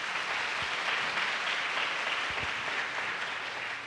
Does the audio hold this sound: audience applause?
yes